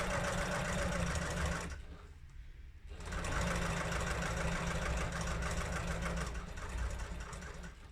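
Sewing machine running steadily as it stitches a vinyl crossbody strap with a Teflon foot, a close, continuous motor whir with a brief pause partway before resuming.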